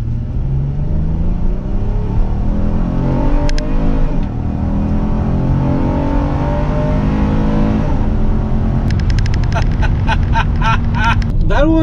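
A 2020 Honda Odyssey Touring minivan pulls away from a red light in sport mode, its engine rising in pitch through gear changes as a loud, continuous drone inside the cabin, with clicks of shifting near the end.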